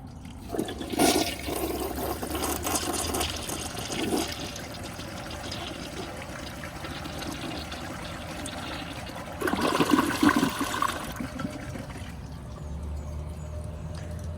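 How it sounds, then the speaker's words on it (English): A Briggs Beautyware toilet flushes with a loud initial rush of water, then a long steady swirl and refill. A second surge of water comes later before the flow fades. "Beautiful flush."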